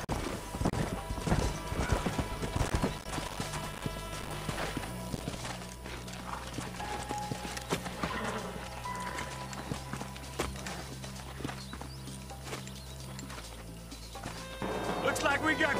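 Horse hooves in the game Red Dead Redemption, run on a PS3 emulator: clip-clopping steps under character dialogue and music, with some crashes and background game sound.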